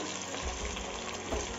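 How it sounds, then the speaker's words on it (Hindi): Potatoes and cauliflower frying in a pressure cooker while vegetable biryani is prepared, giving a steady, close, watery sizzle with a couple of soft bumps and no voices. "साथ में फ्लावर भी डाल देंगे और इन्हें थोड़ा अच्छी तरह से हम भून लेंगे।"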